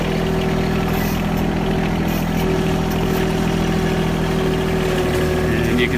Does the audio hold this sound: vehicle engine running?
yes